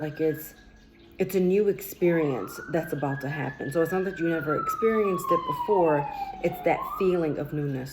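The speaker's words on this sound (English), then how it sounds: "Sorry about the siren." A siren wails in the background, rising and falling slowly, while a person talks steadily over it in the foreground.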